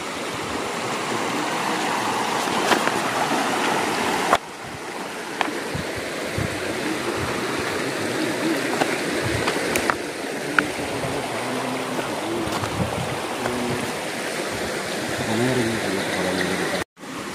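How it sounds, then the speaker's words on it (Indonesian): A small irrigation channel in a mountain ravine rushes and gurgles steadily close by, a continuous broad wash of flowing water with occasional handling knocks and faint voices beneath it. "Nah, ini tali airnya kita cek"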